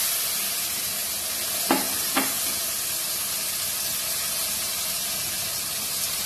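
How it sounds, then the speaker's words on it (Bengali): Spice paste dropped into hot oil in a pan for a hilsa fish dish, giving a loud, steady hiss of sizzling with two short sharp clacks near the start, and no voices. "এই তেলের মধ্যে দিয়ে দিলাম মশলাটা"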